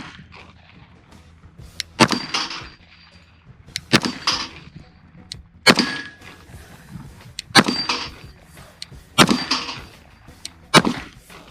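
A Kimber Black Ice Rapide pistol fired at steel targets, six sharp, loud reports spaced about two seconds apart, each with a short ringing decay, and no talking between them.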